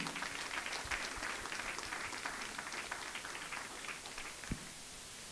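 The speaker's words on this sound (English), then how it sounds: "Can we give a better clap offering?" Faint, sustained crowd clapping at a church gathering in Dubai, a distant patter of many hands that runs on for several seconds with a single sharper knock near the end.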